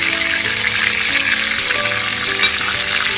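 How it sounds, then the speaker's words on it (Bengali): Spice paste frying with flat beans in plenty of oil makes a loud, close, continuous sizzle with a busy crackling texture and a low rumble beneath. "মশলাটা ভালো করে কষিয়ে নিতে হবে।"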